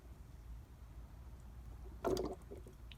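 Acid trickles from a container into a new Walmart EverStart motorcycle battery, a faint, quiet pour with a brief louder gurgle and splash near the end, heard alone.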